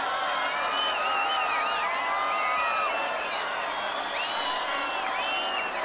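Stadium crowd roaring after a Brazil goal by right back Maicon in a 2008 Brazil versus Portugal friendly: a steady, loud wash of cheering with whistles and whoops rising through it, and faint commentary beneath.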